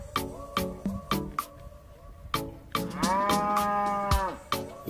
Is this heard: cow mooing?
yes